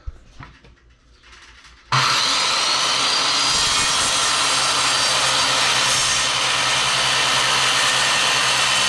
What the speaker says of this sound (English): The old circular saw should do a pretty neat job of that.